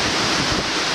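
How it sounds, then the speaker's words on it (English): Strong storm wind, gusting around 45 miles per hour through a yard with a storm-damaged holly tree, roars as a loud, steady broadband rush with no pauses and no talking. "There's some nice gusts right there."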